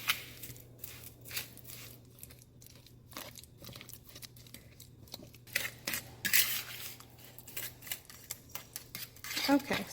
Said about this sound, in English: So now I'm just gonna go in and mash all of my ripe bananas, kind of mix it with the sugar.